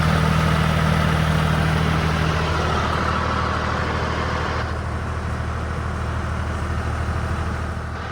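A tractor engine idles steadily at the roadside, a loud continuous low rumble with a faint tonal hum, alone throughout.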